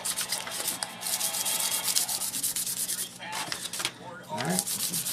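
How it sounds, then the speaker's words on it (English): Sandpaper rubbed back and forth over balsa model rocket fins for a Viking model rocket, a steady scratchy rasping in quick repeated strokes, close up, with faint talk in the background. "Just sand them down, make them smooth"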